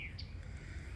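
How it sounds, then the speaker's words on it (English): Faint bird chirps sound briefly in the distance near the start, over a low, steady background rumble. "If you hear some sound in the background, you hear the birds chirping"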